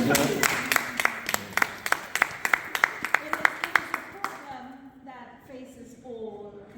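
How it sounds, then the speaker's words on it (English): A small audience at an awards event claps in a run of sharp, distinct claps for a few seconds, then the clapping fades out and a voice talks over the quieter end. "Can you give her a round of applause?"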